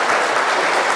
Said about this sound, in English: The applause is well received.